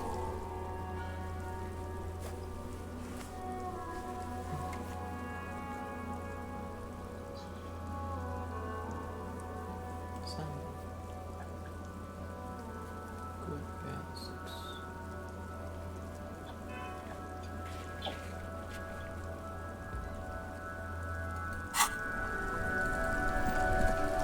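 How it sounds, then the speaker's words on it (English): Steady rain falls in the game Disco Elysium, a continuous patter over a low, droning ambient tone, with a single sharp tap near the end and no speech. "It's raining again."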